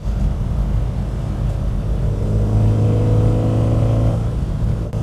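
Heard from inside a moving Hillman Avenger Tiger, a steady engine and road rumble fills the cabin with outside noise and no talk.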